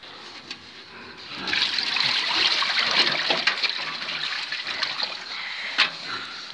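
Water gushes and splashes steadily nearby on a pig farm, a bright rushing pour with occasional clanks and splatters, as drinking water is poured for pigs.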